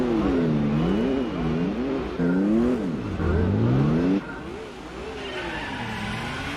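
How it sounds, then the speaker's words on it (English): A Nissan GT-R Concept LM race car at Suzuka in Gran Turismo 4 sounds loud and close, its engine note climbing and dropping in repeated waves through gear changes and corners. "It's 6 laps of the full circuit in the Nissan GTR Concept LM."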